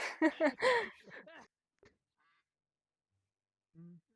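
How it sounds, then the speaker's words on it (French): A duck in a video game: a burst of loud, rapid nasal quacking up close, then a couple of faint short sounds and one more brief quack after a pause. "Nous sommes accueillis par un coin-coin"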